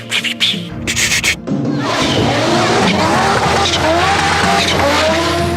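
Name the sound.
Audi five-cylinder engine sound, wastegates fluttering off gas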